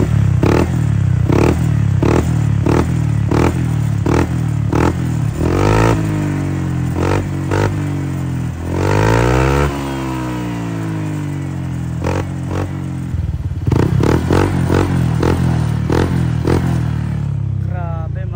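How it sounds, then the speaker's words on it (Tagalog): A Honda Click scooter fitted with a Cabin 5 aftermarket exhaust pipe revs repeatedly up close, sharp throttle blips rising and falling with rough, raspy exhaust tone, loud and rhythmic before a longer sweeping rev. "Tara, parinig naman natin itong kinabit natin na Cabin 5 dito sa Honda Click."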